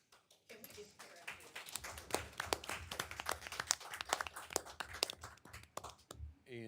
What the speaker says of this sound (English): with that round of applause